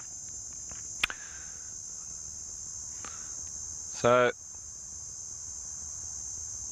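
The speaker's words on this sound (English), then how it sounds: "you might also have these Christmas beetles that we're listening to now." Steady, high-pitched buzzing of Christmas beetles drones continuously in the background, with a few faint knocks and a brief burst of noise partway through.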